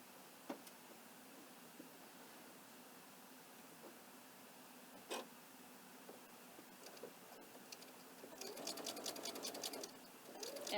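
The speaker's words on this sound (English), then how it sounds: "So if I put the pin on this side, then I can flip that seam back down and I can sew this seam." Quiet sewing machine with a walking foot stitching a binding seam, a faint steady whir with scattered ticks, then a denser rapid stitching burst near the end.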